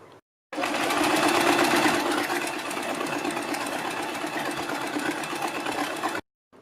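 A sewing machine runs steadily, stitching a net neck strip for a kurti or suit, a continuous close whirring motor hum that starts abruptly and stops cleanly after about six seconds, with no talking.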